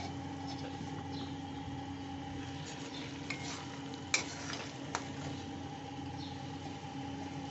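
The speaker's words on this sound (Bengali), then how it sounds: "এইবার পনিরগুলো দিয়ে দিতে হবে, ধীরে ধীরে পনিরগুলো তুলে দিয়ে দিতে হবে।" Paneer cubes settle into a pan of red amaranth leaves that have cooked down, giving a quiet steady sizzle with a few sharp clinks and scrapes from a spoon as the pieces are turned over.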